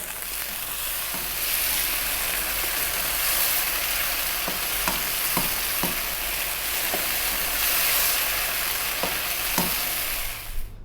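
Crispy Chinese chicken sizzling in a hot pan over high heat with oyster sauce and green onions, a steady loud frying hiss broken by a few light clicks of stirring.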